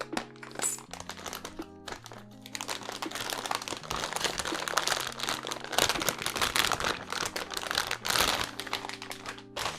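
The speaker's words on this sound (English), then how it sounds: "So let's take a look what inside this box." Packaging for an EVGA GTX 1660 Super graphics card rustles and crinkles up close as the box is opened, with irregular crackles and taps over faint background music.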